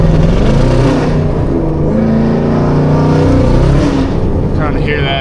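Chevrolet Camaro ZL1 on new tires at wide open throttle, the engine roaring loud and close in a sustained, rising pull as the tires spin, with someone talking over it.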